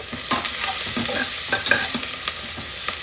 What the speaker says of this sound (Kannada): ಈರುಳ್ಳಿ ಫ್ರೈ ಆದ ನಂತರ ಅರ್ಧ ಟೇಬಲ್ ಸ್ಪೂನ್ ನಾನಿಲ್ಲಿ ಟರ್ಮರಿಕ್ ಪೌಡರ್ನ ಸೇರಿಸ್ಕೊತಾ ಇದ್ದೀನಿ ಚೆನ್ನಾಗಿ ಮಿಕ್ಸ್ ಮಾಡಿ